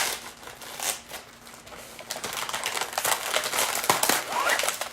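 A plastic gallon zipper storage bag crinkles and rustles in uneven bursts as Oreo cookies are dropped into it, close up with no speech.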